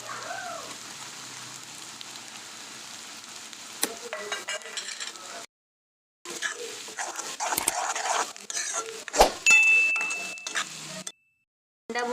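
Egg bhurji sizzling in a pan while being stirred, bursts of scraping and frying crackle broken by short pauses, fairly close.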